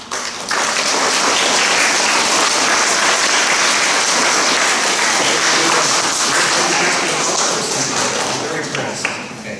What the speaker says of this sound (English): whenever somebody says something that you like, and you're inside, you applaud